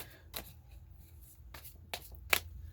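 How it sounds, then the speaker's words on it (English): Tarot cards shuffled during a Pisces reading: several quick riffling bursts and soft slaps spread across a couple of seconds, close and fairly quiet, with no talking. "I'm going to shuffle it a little more like this."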